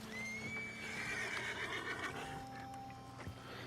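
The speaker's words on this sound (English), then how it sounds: "There's the horse." A horse in Red Dead Redemption 2 gives a clear, drawn-out whinny over a low ambient background, followed by a few faint hoof and movement sounds.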